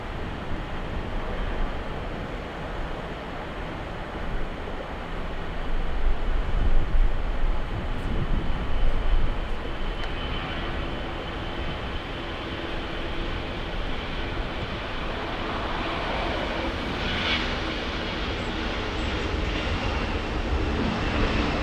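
An Air France airliner departs LAX, its jet engines giving a broad, continuous roar heard from a distance. The roar swells briefly midway and then holds steady with no talk.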